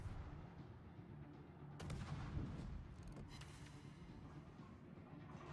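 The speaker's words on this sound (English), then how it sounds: "Realize I'm being shot at, so I revert to using the guns" Warship guns firing in the World of Warships naval battle game, heavy booms and crackling volleys sounding over a steady low rumble, fairly loud with no talk.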